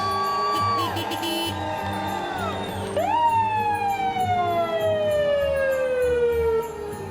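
A big red fire department truck sounds its siren at the 2013 Chilliwack Christmas Parade. Loud wailing tones sweep down and then climb back up over a low street rumble.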